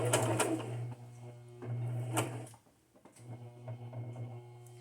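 A sewing machine stitching through journal cards, running in short bursts of rapid mechanical clatter separated by brief pauses as a back stitch is made.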